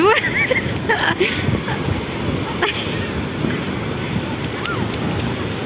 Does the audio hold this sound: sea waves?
yes